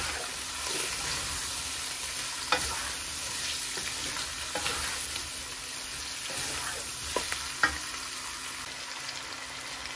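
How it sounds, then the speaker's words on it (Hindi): Potatoes with spices frying for aloo bhujia, a continuous soft sizzle with occasional spoon clinks and scrapes as the pan is stirred, close and steady throughout. "साथ साथ आलूओं की बुनाई कर रहे हैं साथ साथ मसाले ऐड कर रहे हैं"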